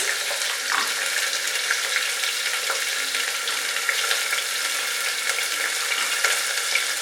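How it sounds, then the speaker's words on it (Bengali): Carrot, cauliflower and beans frying in oil for vegetable pulao, a dense, even sizzle holding steady throughout with faint stirring clicks, close by and with no voices. "সবজিগুলোকে ফ্রাই করে নেব 2-3 মিনিট"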